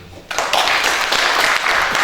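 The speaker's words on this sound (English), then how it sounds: "Please another round of applause for Dr. Abdullahi." An audience breaks into applause after a speech, the clapping starting abruptly and holding as a dense, steady wash of many hands close by, with no talk over it.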